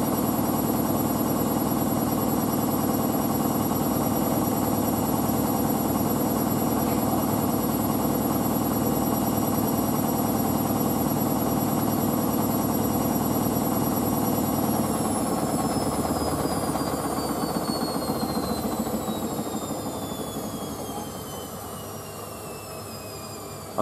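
An Indesit WI101 washing machine spins up toward 600 rpm on a daily wash of tea towels, a loud steady motor drone with a rising whine that later eases and fades slightly.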